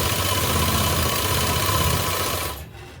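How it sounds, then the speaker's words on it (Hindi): A sewing machine stitching the folded edge of a kurti: a loud, fast, continuous mechanical whir close by that stops abruptly near the end. "इस पर किनारे की सिलाई लगाएंगे।"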